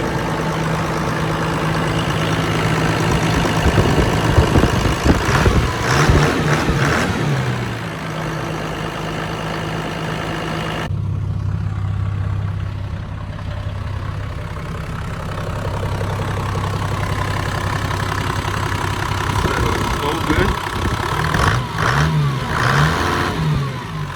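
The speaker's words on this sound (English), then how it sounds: "700 RPM idle. No smoke." A Toyota Land Cruiser 1HD-T turbo diesel, freshly serviced injectors, idles steadily at about 700 rpm, a close, even mid-pitched rumble with a brief rev-like swell early on and a slight shift in tone partway through.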